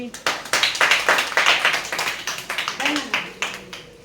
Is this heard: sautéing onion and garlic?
no